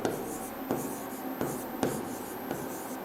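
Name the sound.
writing by hand on paper or board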